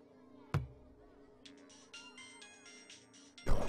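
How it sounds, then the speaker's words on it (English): A phone rings in a quiet room, a faint, steady run of repeated electronic ring tones pulsing several times, with soft thumps at the start and end. "Don't answer the phone."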